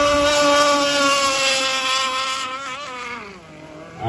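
Offshore Apache power boat racing off Tortola in the British Virgin Islands: a loud, close, high-revving boat engine roars steadily, then its pitch bends and falls away as the boat passes.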